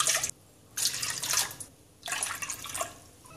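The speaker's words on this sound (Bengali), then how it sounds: "আমি হাঁড়িতে 3 কাপ পানি নিয়ে নিচ্ছি" Water is poured into a cooking pot in three separate bursts, each a loud splashing gush with short quiet gaps between, close by.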